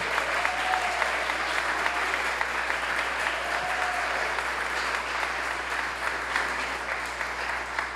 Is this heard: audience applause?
yes